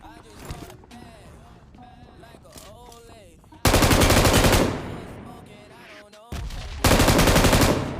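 Gunfire in the BGMI battle-royale video game, two loud sustained bursts of automatic fire following a quieter stretch of game sounds and someone talking.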